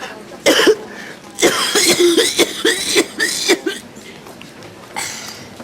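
Several coughs, a sharp one first, then a run of rapid harsh coughs close by, with faint voices in between.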